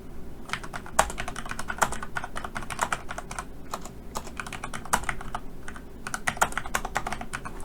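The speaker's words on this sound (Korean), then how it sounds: "그래서 숫자만 이렇게 줄로 타이핑합니다" Numbers being typed on a computer keyboard into an Excel sheet: a fast, irregular run of crisp key clicks with a few harder strokes, close and alone, with no talk over it.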